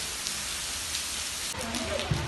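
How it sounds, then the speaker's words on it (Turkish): Steady rain pours down on a surface with an even, continuous hiss, and a few nearer drops or taps show up toward the end. "Yağmur yağıyor."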